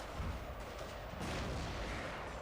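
Battle gunfire and artillery-like booms from the video game Shogun II: Fall of the Samurai, a dense continuous rumble of distant shots and blasts with no clear individual reports.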